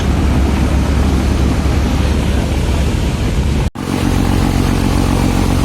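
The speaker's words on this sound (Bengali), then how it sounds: "দেখতে পাচ্ছেন লঞ্চের প্রপেলার থ্রাস্ট কতটুকু বেগে যাচ্ছিল আমাদের লঞ্চ।" The propeller of a passenger launch churns water while the vessel travels from Dhaka toward Ilisha, making a loud, steady roar of rushing water and wind noise with a brief dropout near the end.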